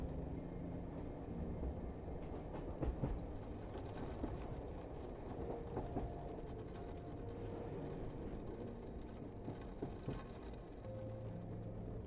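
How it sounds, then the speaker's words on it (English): Steady low rumble of a sleeper train rolling along the rails on a final curve into Taormina Giardini station, Sicily, with faint clicks and rattles throughout and occasional brief squeals, fairly quiet and continuous. "The sleeper follows one final curve towards the station."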